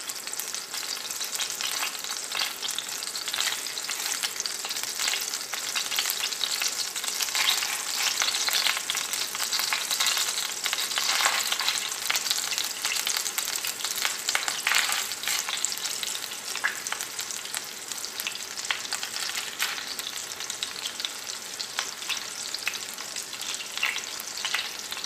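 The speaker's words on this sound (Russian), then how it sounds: "И жарим немного до румяной корочки." Steady, close sizzling and crackling of food frying in butter in a pan, a continuous hiss that swells slightly at times, with no talking.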